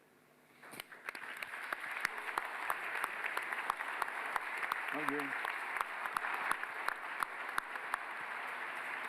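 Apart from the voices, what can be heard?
audience applause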